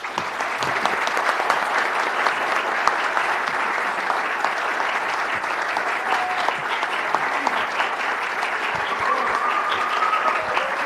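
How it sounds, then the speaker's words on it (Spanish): An audience at a book presentation applauds to welcome Agustín Laje to the stage, a sustained, full round of clapping lasting several seconds, with a couple of faint whistles rising through it. "Recibamos con un aplauso a Agustín Laje"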